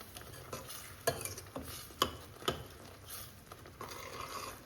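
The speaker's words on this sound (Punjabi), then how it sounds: "ਤੇ ਕੜਛੀ ਆਪਾਂ ਚਲਾਈ ਜਾਵਾਂਗੇ ਬੰਦ ਨਹੀਂ ਕਰਨੀ ਹੈ ਜੀ" A ladle stirs mushroom and pea curry in a kadai, giving a steady sizzling bed broken by several sharp scraping clinks against the pan, close and moderately loud, with no talking.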